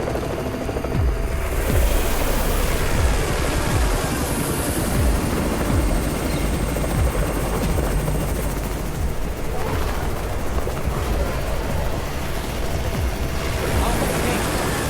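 A helicopter's rotor chops steadily overhead in the mobile game Undawn, amid a dense, noisy mix of rapid gunfire-like bursts and other game action.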